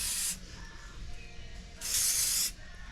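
Two bursts of spray paint hiss from a can as black paint goes onto parts of a 1984 Corvette, a short spray then a longer one after a pause, close and fairly loud with no talk.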